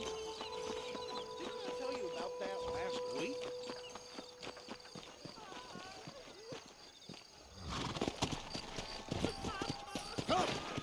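A horse in Red Dead Redemption on Xbox Series S clops along at a walk under steady talking, with hoof steps growing louder and denser near the end amid game ambience.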